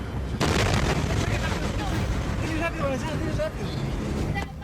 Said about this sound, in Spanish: El volcán Reventador puso en emergencia a varias provincias con repetidas explosiones